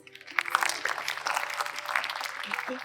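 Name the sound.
audience applause after a Kathak performance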